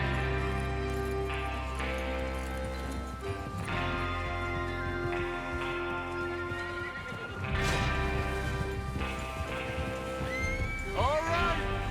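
Horses whinny and snort over a steady music bed in the video game Red Dead Redemption 2, with a rising neigh near the end and faint hoof sounds underneath.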